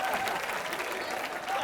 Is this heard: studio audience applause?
yes